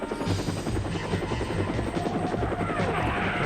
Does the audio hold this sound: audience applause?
no